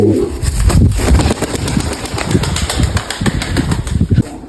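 Pigeons, white birds kept by a fancier in Mykolaiv, coo close by while wings flap and clatter in repeated bursts under a faint engine hum, with no talking.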